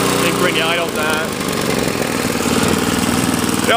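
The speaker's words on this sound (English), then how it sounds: "They also seem to be idling fairly good right now for us" A small snowblower engine, an MTD Deluxe Gold Series, idles nearby with a steady, buzzing putter while a person talks over it.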